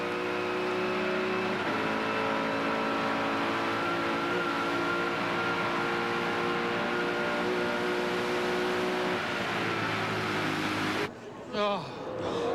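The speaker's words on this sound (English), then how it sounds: "but just listen to the pitch of the engine." Touring car engine racing at Bathurst during a 1995 Australian Touring Car Championship round, a loud sustained high-pitched drone with shifting pitch, then a brief dip near the end.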